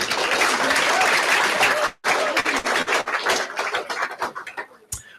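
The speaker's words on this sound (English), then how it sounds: "Let's give them a big round of applause" Audience applause for school debate teams at a Melanesian school debate, loud and dense at first, breaking off briefly, then resuming as scattered claps that thin out and fade toward the end.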